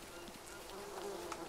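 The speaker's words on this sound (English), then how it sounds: "As I walk into bees." Bees buzzing in a continuous, droning swarm close by in the jungle survival game Green Hell, steady and unbroken.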